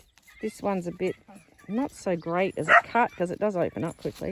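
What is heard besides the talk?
dog barking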